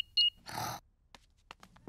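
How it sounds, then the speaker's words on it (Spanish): In a Peppa Pig cartoon a house alarm is switched back on with a short double electronic beep, then a brief rushing swish and a few faint ticks. "Volveré a encender la alarma."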